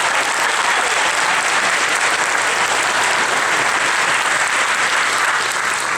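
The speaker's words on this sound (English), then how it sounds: "Let's give them a round of applause for tonight." School play audience at the Globe clapping, a loud, dense, continuous round of applause from a full crowd, steady throughout.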